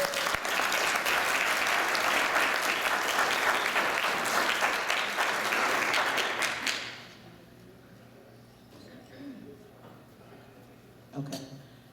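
Conference audience at a clinical panel Q&A applauds loudly for about seven seconds, then the clapping drops away abruptly, leaving a quiet room with faint shuffling and a single thump near the end.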